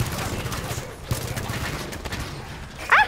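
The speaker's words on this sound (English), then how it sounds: "Turrets are firing." Auto turrets firing in the Halo 5 campaign, a rapid burst of gunfire layered with game effects and a sharp electronic chirp near the end, no talking.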